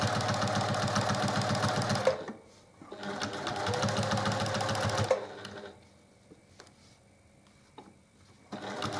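A sewing machine stitches across a pinned quilt in fast, rattling runs, stopping and starting again, close and clear with quiet pauses between bursts.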